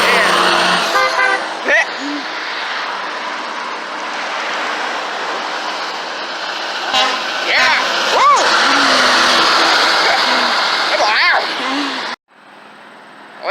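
An old Ford tow truck with a tall exhaust pipe and one broken horn blasts several horn honks in loud bursts over constant traffic and engine noise, and people talk nearby.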